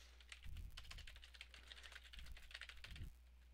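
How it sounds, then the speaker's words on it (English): Fast, continuous typing on a computer keyboard, a dense stream of close, light key clicks over a low electrical hum. "I'm gonna type the same thing."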